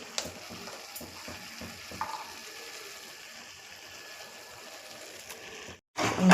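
Masala spices fry in a pan for egg curry, a soft continuous sizzle with light stirring scrapes, ending in a brief pause and then a louder burst.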